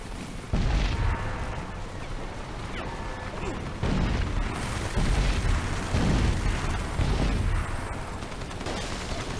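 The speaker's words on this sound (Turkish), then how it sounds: "Top atıyor." Cannon fire in the shooter game Crysis Warhead: repeated heavy booms and blasts land every second or two over a dense, rumbling battle backdrop, with light talk underneath.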